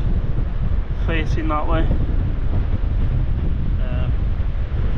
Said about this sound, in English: That wind's pretty strong. It's coming sideways